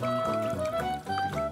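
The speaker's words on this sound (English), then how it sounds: "Then I'll add vegetable oil and fill it close to the brim." Vegetable oil pours into a jar already holding baking soda, a glugging liquid fill heard beneath steady background music with a sustained tone.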